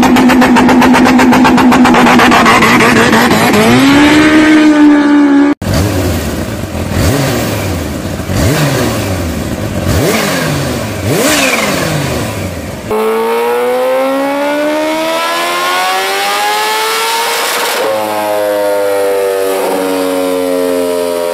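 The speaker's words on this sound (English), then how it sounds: "crazy whistling supercharger blow-off valve noises and an eardrum exploding exhaust" A powerful supercharged Kawasaki H2R motorcycle engine revs hard through rising and falling pitches, with a high whistling supercharger whine, blow-off valve noises and loud, roaring exhaust, close and continuous.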